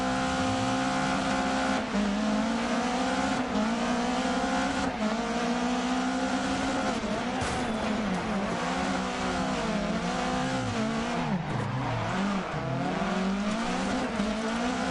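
Rallycross race cars launching off the start line at Mettet, with loud, continuous engine roar and revving from close by that swells and falls as the cars accelerate away, with no talking.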